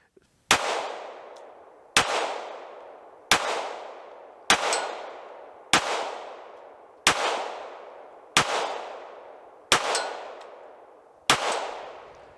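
An FN Five-seveN pistol fires nine sharp, loud shots at a steady pace of roughly one every one and a quarter seconds, each crack ringing out briefly before the next.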